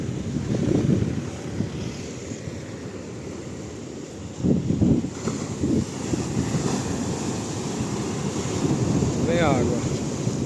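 Ocean waves breaking on a beach at Icaraí, Caucaia, Ceará, Brazil, a loud continuous rush of surf with swelling crashes and strong wind noise on the microphone.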